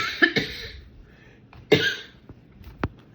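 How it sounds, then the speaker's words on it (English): A person coughs sharply several times at close range, two quick coughs followed by a louder one and a few fainter throat clicks in a quiet room. "Normally I would be able to edit out my cough"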